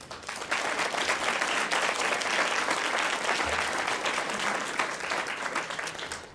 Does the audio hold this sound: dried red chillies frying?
no